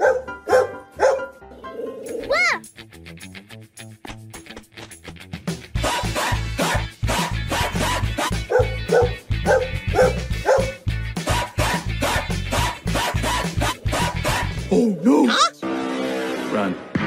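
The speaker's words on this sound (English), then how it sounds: "Here is Danny Dog." Cartoon dog character from Peppa Pig barking in repeated bursts and short yips, mixed with cheerful children's cartoon voices and playful background sounds throughout.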